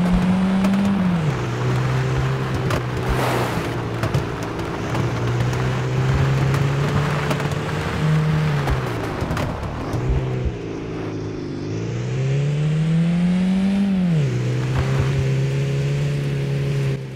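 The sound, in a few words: old car engine driving in video game Beware demo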